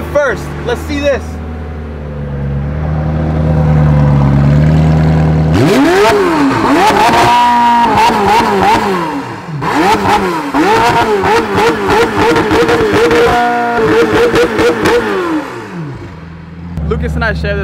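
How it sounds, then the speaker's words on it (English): A supercar engine, one of a pair kept in a garage collection, barks through repeated loud, close revs in rising and falling bursts, with brief idle gaps and people talking around the pulls. "All right, I'm gonna rev first."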